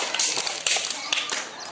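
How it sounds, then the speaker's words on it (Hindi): A few people clap at home as a young girl recites Indian state capitals, giving scattered, uneven hand claps close by with light chatter around them. "शाबाश, ताली बजाइए।"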